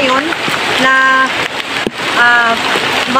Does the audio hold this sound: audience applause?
no